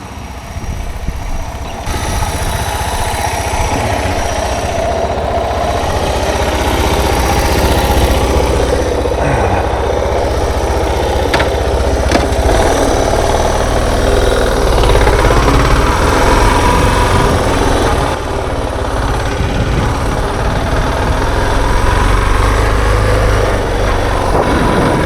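A Suzuki DR650 dual sport motorcycle engine drones steadily while riding on a rough mountain pass, with constant wind and road rumble over a continuous, moderately loud running note.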